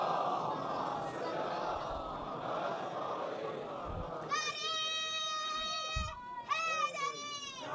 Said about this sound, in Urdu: یہ نعروں کی آواز ماشاءاللہ.